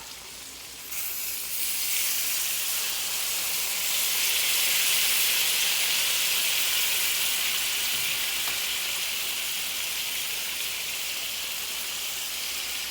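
Bananas with sugar and lime caramelize in a hot pan, giving a loud, steady hiss and sizzle. It swells after the first second and holds on evenly, with no voices.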